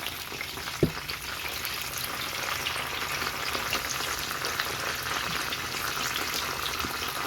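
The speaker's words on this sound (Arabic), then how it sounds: "هننزل بقى بالبدنجان ورا بعضه كده لحد ما يتقلي كله" Eggplant slices frying in hot oil for a moussaka-style tray bake, giving a steady, dense sizzle close up with one brief clink near the start.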